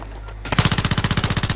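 A rapid burst of AK assault rifle fire in the video game Battlefield 3, about twenty evenly spaced loud shots in quick succession after a short quiet lead-in.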